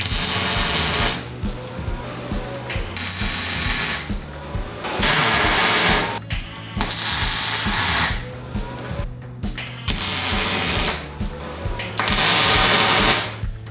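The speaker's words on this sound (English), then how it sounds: "Now it's time to weld up the main frame of the table." Welding the steel main frame of a fabrication table in a workshop, with repeated loud bursts of crackling hiss lasting a second or two each, separated by short pauses.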